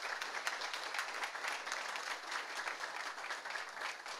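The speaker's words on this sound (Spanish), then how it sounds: "pido a los presentes también les ayudemos con un aplauso a nuestros compañeros obreros" Sustained audience applause at a Spanish-language inauguration ceremony, dense steady clapping from a crowd with no talk over it throughout.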